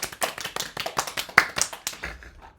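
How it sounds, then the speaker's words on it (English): A small group claps their hands in a quick, uneven burst of applause lasting a couple of seconds, fairly quiet and close. "Everybody, clap your hands."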